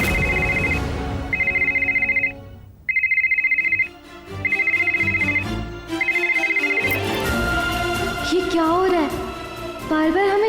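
A mobile phone ringtone plays as repeated tonal bursts in a regular on-off pattern, loud and close, with voices and music joining toward the end.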